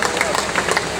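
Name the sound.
audience clapping at a mushaira on request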